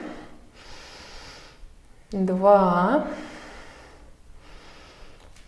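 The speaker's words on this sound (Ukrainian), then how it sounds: "дихаємо рівно через ніс" Slow, even breaths drawn through the nose during a yoga splits session, soft airy whooshes near the mic in a steady cycle, broken by a voice counting aloud in the middle.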